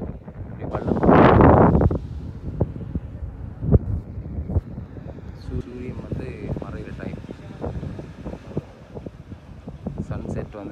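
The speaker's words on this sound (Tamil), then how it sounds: "அந்த பாய்க்கு காற்று வந்து வெக்க காற்று தான் அடிச்சுட்டு இருக்குது" Hot desert wind rushes and buffets across open desert in the UAE, with a loud gust near the start and a low roar continuing under a voice.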